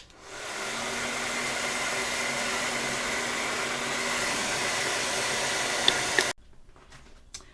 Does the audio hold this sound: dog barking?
no